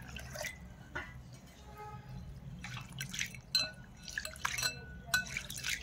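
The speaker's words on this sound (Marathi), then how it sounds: "या सगळ्या डाळींना एक वेळेस आता धुवून घ्यायचं आहे स्वच्छ पाण्याने।" Mixed lentils and coriander seeds are rinsed in clean water in a kitchen, giving soft drips, trickles and sloshing with light clinks of grains against the vessel, quiet and intermittent.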